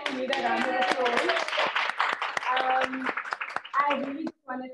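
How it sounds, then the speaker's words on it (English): A round of applause at an in-person skills exchange event, sharp claps sounding throughout alongside voices talking over them. "we need a round of applause"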